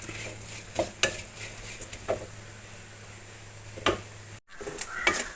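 Grated coconut roasting in a pan for a Kerala koottu curry, stirred with a spoon: faint, sparse scrapes and clicks over a low steady hum, close by, with no voices.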